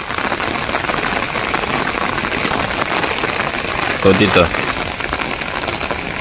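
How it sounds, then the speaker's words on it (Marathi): Torrential monsoon rain lashes down during a fishing outing, a loud continuous roar of drops, with someone speaking briefly over it. "पावसाने एकदम खतरनाक असा धुमाकूल सुरू केलेला आहे"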